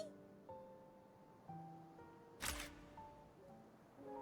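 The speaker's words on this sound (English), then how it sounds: "As the shutter button makes a clicking sound" A phone camera shutter clicks once, a short bright burst standing out over soft game music with sustained tones in the Love and Deepspace dating game.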